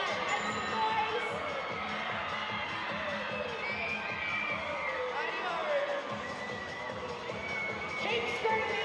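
A large arena crowd at a women's basketball game between the Sydney Flames and Canberra Capitals screams and cheers loudly and continuously, with children's shrieks and whoops mixed in.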